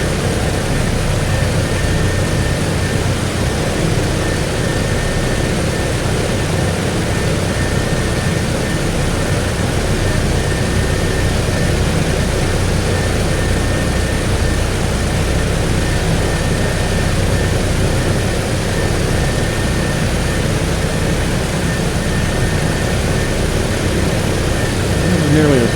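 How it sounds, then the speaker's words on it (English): Engines of a PMDG DC-6B four-engine propeller airliner in Microsoft Flight Simulator 2020 run before takeoff, a dense, steady droning roar with a constant low hum, loud and unchanging throughout. "we are ready to go out onto the runway and do our takeoff"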